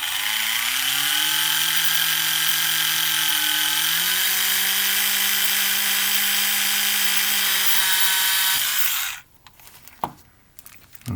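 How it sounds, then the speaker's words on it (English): A Tamiya electric drill bores a hole in a model ship. The motor whines steadily and loudly at close range for about nine seconds, its pitch stepping up slightly as it runs. It then cuts off, and a few faint handling clicks follow. "we're going to be using the Tamiya electric drill here"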